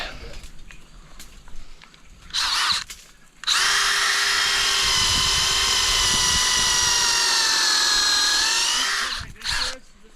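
A power drill whirs steadily at high pitch for several seconds after a couple of short bursts, with brief rustling and handling noises around it.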